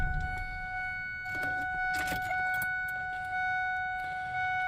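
A Ford 7.3 Powerstroke diesel truck with 156,000 miles is shut off, leaving a quiet cab with a steady electrical whine, a few clicks and soft knocks, and no engine running.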